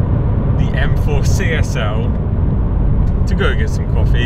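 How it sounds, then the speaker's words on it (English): A brand-new BMW M4 CSL on a sunny, frosty morning drive gives a steady low engine and road rumble inside the cabin, mostly beneath someone talking. "out for a nice morning's drive in the M4 CSL"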